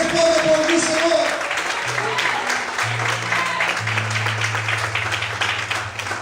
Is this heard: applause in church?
yes